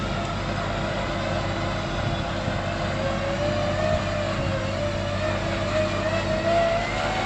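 An off-road vehicle's engine revs steadily on the gas during a winch recovery, a continuous loud mid-low drone with slight rises in pitch, close by with no talking.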